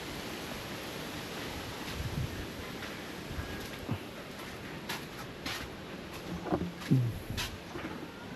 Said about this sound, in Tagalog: Malakas ang hangin yun.